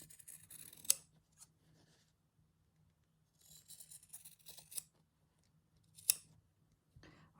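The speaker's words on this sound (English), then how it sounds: "And I'm just going to now cut the side of the little house." Scissors snip through fabric while a gingerbread house applique shape is cut out, giving a few sharp close cuts and soft rasping strokes separated by quiet gaps.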